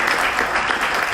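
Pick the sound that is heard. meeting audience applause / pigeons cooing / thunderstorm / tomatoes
meeting audience applause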